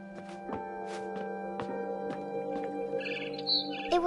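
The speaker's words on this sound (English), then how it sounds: "Then I heard chirping outside my window." A barn swallow chirps in What Remains of Edith Finch, a few short, high calls near the end rising over a steady, sustained musical drone.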